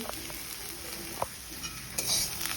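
Greens frying in a pan give a quiet, steady sizzle with a few soft stirring scrapes and a brief louder hiss near the end, with no voices.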